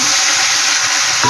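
Ground onion paste fries in hot oil with cumin in a pan, giving a loud, close, unbroken hiss of sizzling with a brief stirring knock at the end.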